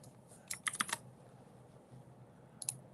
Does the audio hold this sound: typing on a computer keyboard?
yes